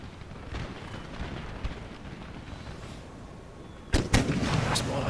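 Heavy artillery fire support in Empire: Total War opens with two sharp, loud cannon blasts followed by rumbling booms, rising abruptly out of a low battlefield ambience.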